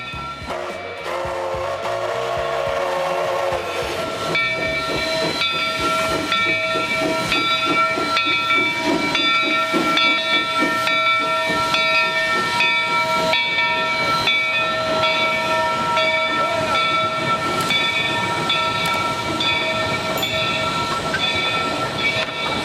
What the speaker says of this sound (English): We'll start out catching the 41 pulling out of the depot at 6th Street.